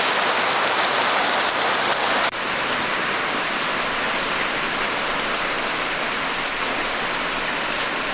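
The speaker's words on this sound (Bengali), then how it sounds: "তো খুব ভালো করে মশলাটা ভেজে নেব" Ginger, garlic and green chilli paste frying in a pan makes a steady, loud, hissing sizzle with no break. It runs the whole way through, easing slightly after the first couple of seconds.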